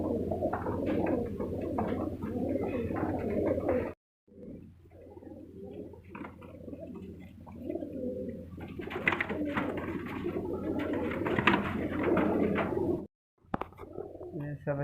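Pigeons coo and flutter in a busy Sunday bird market in Multan, including Shirazi and other fancy breeds. The soft, rolling cooing comes from several birds nearby over a constant murmur of market noise, with two brief silent gaps.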